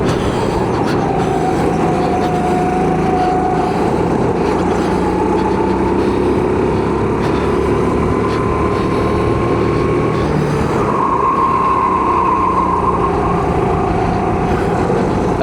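A go-kart engine drones continuously as the kart races around a track, a loud close whine that rises and falls in pitch as it accelerates through corners.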